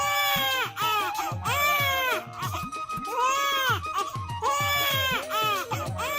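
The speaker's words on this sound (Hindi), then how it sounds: "कुछ ही देर की पीड़ा के बाद बच्चे के रोने की आवाज आती है।" A newborn baby cries in repeated loud, wailing bursts separated by brief breaths, sustained and close throughout, with a faint background underneath.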